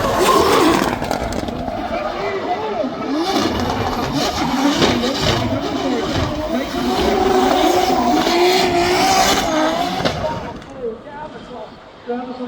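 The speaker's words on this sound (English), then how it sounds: "Harry Love now flips that car round the roundabout" A drift car's engine roars and revs while tires squeal and skid around a roundabout on the Goodwood circuit during a drift competition, with a commentator talking over the noise; it fades near the end.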